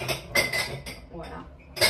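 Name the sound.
putting away dirty dishes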